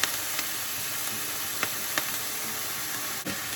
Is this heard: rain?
no